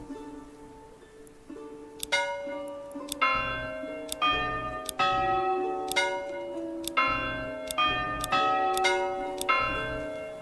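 A bell in the medieval city-building game Manor Lords rings repeatedly in a steady rhythm, each clear metallic strike ringing out over the one before with a low thud beneath, loud and alone with no talking.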